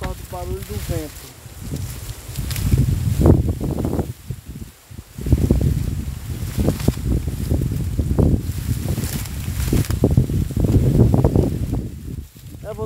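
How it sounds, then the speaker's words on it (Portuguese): Wind gusts steadily across the open countryside during a harvest of ripe fava beans, roaring and buffeting the microphone as a close, rough noise under a voice, which rises and falls through the whole stretch. "Nem ouvi aí por causa do barulho do vento."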